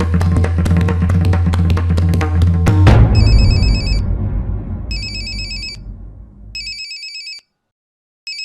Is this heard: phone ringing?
yes